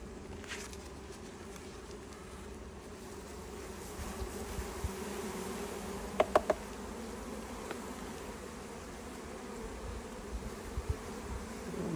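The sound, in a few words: honeybees buzzing at Langstroth beehive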